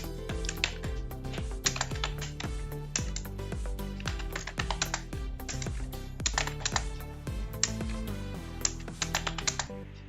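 Typing on a computer keyboard while drafting a letter, a dense run of quick key clicks in uneven bursts with brief pauses, close and steady, with no talking.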